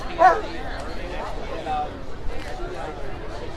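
Dogs bark in short bursts amid a busy crowd at a state Capitol event, with people chattering throughout and a louder yip near the start.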